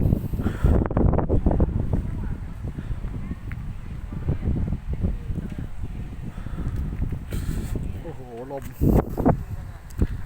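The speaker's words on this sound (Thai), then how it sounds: "ลมแห้งอยู่ครับ" Gusty wind roaring against the microphone outdoors on a mountain at Phu Ruea, Loei, rumbling throughout while someone talks over it.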